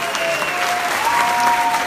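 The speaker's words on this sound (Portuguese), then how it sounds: "Merece todos os aplausos." A concert audience at a show applauds in a dense, steady wash of clapping, loud and close, with faint voices and a held tone underneath.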